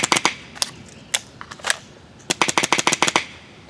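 A Planet Eclipse Emek MG100 magfed paintball marker firing off a small magazine: sharp, close pops come singly and in quick bursts, ending in a fast, rhythmic volley, with no voices.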